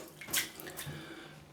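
Water tipped out of a shaving soap tub before wetting the brush, a short splashing pour with a trickle that fades into faint dripping, close and quiet.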